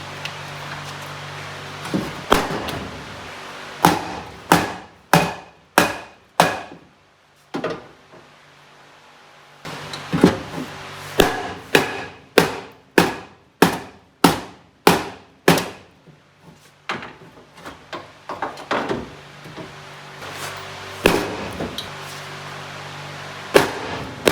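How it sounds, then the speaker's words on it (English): Sharp, ringing hammer blows strike metal on a van in quick bursts of several hits, with short pauses between runs; loud and close, with no talking. "I've tried to beat the crap out of it with a hammer"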